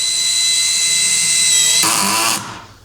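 Bosch EXPERT EXSR18V-90FC cordless drill driving a screw deep, a steady high whine that shifts abruptly near the end as the mechanical clutch engages, then cuts off into quiet.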